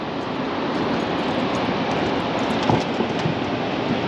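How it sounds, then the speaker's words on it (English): A boat motor running steadily while catfish jugs are set out on the water, a loud, constant broadband drone with a few faint knocks partway through. "When I deploy my jugs, I just leave the motor running"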